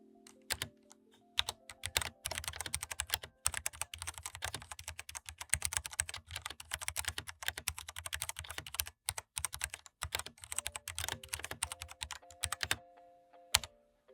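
Rapid, clicky keystrokes on a Ducky One 3 TKL mechanical keyboard, close up, with brief pauses between bursts and no talking.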